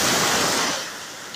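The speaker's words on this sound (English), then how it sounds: "You can see the tiger waves are very strong, and it's not easy." Strong ocean waves pound Keta beach in Ghana's Volta Region, a loud, continuous roar of surf that washes over everything and eases slightly toward the end.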